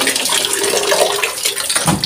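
Water gushes from the pipe of a shallow well pump, a steady broadband rush of splashing flow that carries on without pause and stays close and fairly loud throughout.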